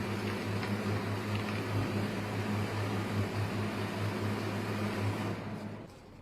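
SF22 II book folding and saddle-stitch stapling machine running, a steady mechanical hum with a low drone and faint rhythmic clicks that fades as it powers down near the end.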